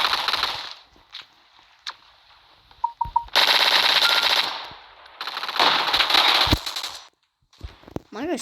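Machine gun fire in a video game shooter: two long, loud automatic bursts with a shorter volley and a few electronic beeps between them, then brief quiet.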